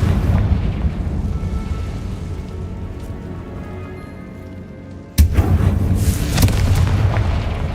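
Confringo fire spell explosion in the video game Hogwarts Legacy, a sudden heavy boom that cuts in after a low ambient rumble, followed by a loud sustained crackling roar.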